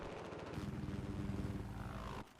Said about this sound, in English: Hula Mulu, showing exactly why helicopters are so dangerous on this map.